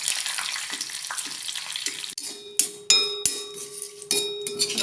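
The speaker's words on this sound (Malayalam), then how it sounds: "അതിൽ കുറച്ച് വെളുത്തുള്ളി ഒന്ന് വറുത്ത് കോരിയെടുക്കാം." Garlic and curry leaves frying in hot oil, first a dense close sizzle, then a series of sharp metallic clinks and knocks from a utensil against the pan over continued frying.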